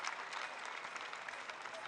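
Crowd at a college baseball game between Alabama and Oklahoma applauding a pitcher's strong outing, a steady wash of distant clapping from the stands that holds evenly throughout.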